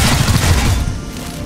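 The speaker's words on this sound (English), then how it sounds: "let's just shoot the Adder" Weapons fire aimed at an Adder enemy in XCOM: Chimera Squad, a short burst of heavy booming shots up front that fades into a rumbling tail.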